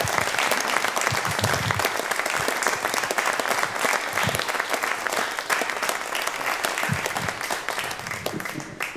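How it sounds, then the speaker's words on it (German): An audience at a stage event gives a guest steady, continuous applause. Many hands clap close together in a dense, even roar that holds at the same level throughout. "Großer Applaus bitte für Stefan Kausen."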